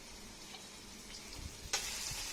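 Onions, chilies and garlic fry in a pan on a stove, giving a steady soft sizzle with occasional stirring scrapes and a brief louder burst of hiss near the end.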